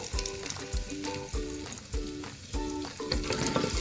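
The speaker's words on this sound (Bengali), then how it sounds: "আদা ক্রাশ করে রেখেছিলাম আদা বাটাটা দিয়ে দেবো" Ginger paste frying in hot oil with asafoetida for a potato curry, a steady close sizzle broken by repeated scraping strokes of a spatula roughly every half second.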